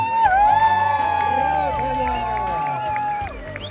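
A crowd at a rally awards ceremony claps and cheers for the first-place woman, loud shouts and whoops over steady clapping, with a sustained tonal sound running through most of it.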